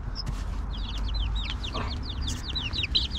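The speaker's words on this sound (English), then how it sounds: "Chicken." Chickens cluck and chirp in quick, repeated calls, close and moderately loud, while they are being caught and put into a small backyard coop, with rustling and low background noise.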